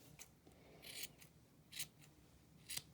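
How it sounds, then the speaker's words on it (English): Scissors snip repeatedly while trimming a fluffy yarn pom pom for a pom pom cactus craft, giving several short, crisp cuts at irregular intervals, close and fairly quiet, with no talking. "I'm going to fluff it up and trim it down a lot."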